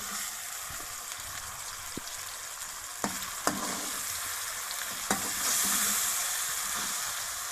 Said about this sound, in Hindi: अब इसमें मैरिनेटेड चिकन शामिल करेंगे। अब इसको 1 से 2 मिनट के लिए भूनेंगे, फ्राई करेंगे।